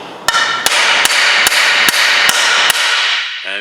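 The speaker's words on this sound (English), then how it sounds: "hit it just to get a feel for how sturdy and how strong the strike pad is on both of them" A hammer strikes the strike pad of a Tekton pry bar seven times in an even, steady rhythm, each blow a sharp, loud metallic crack with a bright ringing tail between hits.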